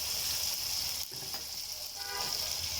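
Ginger and garlic paste frying in a pan, a steady loud sizzle at close range with a brief stir partway through, no talking.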